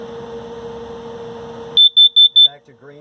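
A voice talks, then a shrill carbon monoxide and LP gas detector alarm in a 2017 Clipper 1285SST camper sounds a sharp chirp and three rapid loud beeps during a self-test, followed by quieter electronic tones.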